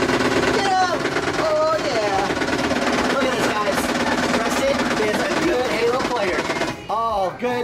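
Arcade shooting game fires bursts of electronic gunfire continuously, loud and dense over bright game music, while people talk and cheer excitedly.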